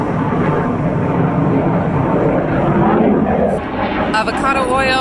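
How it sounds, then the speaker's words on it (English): Loud, broad roar of airplanes passing overhead near an airport, sustained and dense for about four seconds before easing, with a brief voice-like harmonic sound near the end. "The planes are loud."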